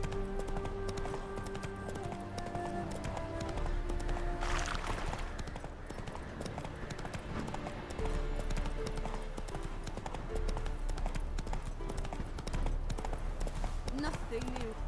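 Roach, the horse in The Witcher 3, gallops in quick, rhythmic clip-clop hoofbeats that run steadily under game music and effects. A voice talks over the hoofbeats.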